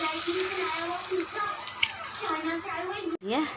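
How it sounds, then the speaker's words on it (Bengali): Spice-rinse water splashes into a pot of cooking jackfruit and prawn curry, a steady close pour with bubbling while someone talks. "তো এখন ওই যে মশলা ধোয়া জলটা আমি দিয়ে দিব এটার মধ্যে"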